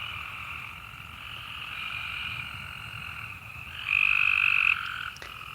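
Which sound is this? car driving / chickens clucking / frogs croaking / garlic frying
frogs croaking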